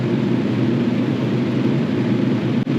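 Loud air conditioner running inside a mini camper during extreme heat, a steady dense roar of blowing air close by with no talking.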